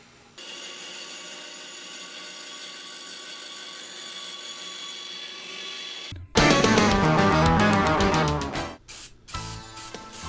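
A power tool cuts part of the wooden body of an electric guitar, a steady whining drone that gives way to a louder, rougher cutting sound with brief pauses near the end.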